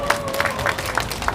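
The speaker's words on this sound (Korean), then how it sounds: "박수로 부탁드리겠습니다." Scattered clapping from a small crowd at a union rally, with periodic louder claps over a murmur of voices and a faint tone early on.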